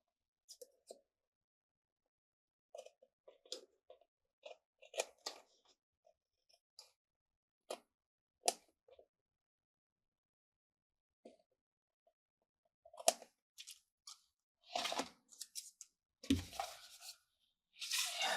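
Paper folder pieces being cut off, with scattered short snips and crisp paper rustles close up, sparse at first then denser, louder crinkling and handling near the end, quiet gaps between.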